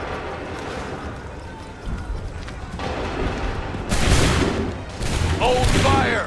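Musket volleys in an Assassin's Creed III battle at Lexington and Concord, several booming bursts of gunfire among shouted commands and crowd noise, growing louder toward the end.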